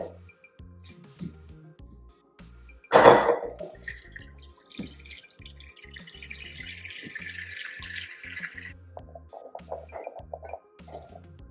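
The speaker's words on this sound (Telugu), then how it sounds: "నేను కొంచెం సాల్ట్ వాటర్ వేసి వాష్ చేస్తాను" Organic beans are washed in salt water at a kitchen sink: after a quiet start, the tap gushes and splashes, then steady running water continues with a few small clinks and drips before fading.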